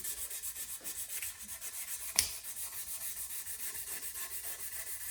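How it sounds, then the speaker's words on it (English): Oiled wood of a vintage Bernie Goodfellow bass guitar body being wet sanded by hand with 800 grit sandpaper over an eraser block, a soft rhythmic back-and-forth rubbing, close and quiet, with one sharper scrape midway and no talk. "now I'm going to wet sand with an eraser, an 800 sandpaper"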